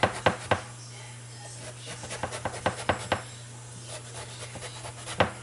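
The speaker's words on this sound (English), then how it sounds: "So I'm going to slice little by little." A knife slices eggplant little by little on a board, giving a series of short, crisp cuts with uneven gaps over a steady low hum, close and fairly quiet, with no voices.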